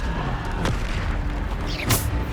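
Bombarda spell blasts go off in Hogwarts Legacy, with dense game noise throughout and two sharp bursts, the second at the end louder and brighter with a rumbling boom.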